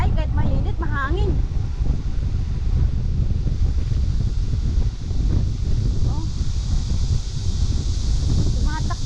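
Steady wind roaring and buffeting across the microphone during a bike ride, loud and constant, with brief voices heard faintly underneath.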